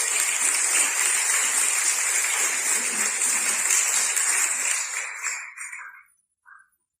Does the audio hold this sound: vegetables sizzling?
no